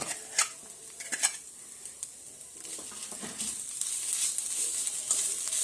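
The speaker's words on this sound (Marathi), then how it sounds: "ह्यातच गुळ देखील मिक्स करून घ्यायचा" Jaggery is stirred into a coconut modak filling in a pan: a few sharp spoon clinks against the metal, then continuous scraping and a low sizzle, close and without talk.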